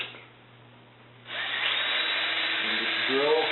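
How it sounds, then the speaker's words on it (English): Power drill boring a pilot hole into wood for a screw on a bee hive stand, a steady close whir that starts abruptly and holds at full speed. "just drill directly in where you want your screw to go"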